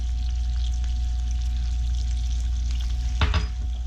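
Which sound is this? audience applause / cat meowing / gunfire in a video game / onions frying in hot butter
onions frying in hot butter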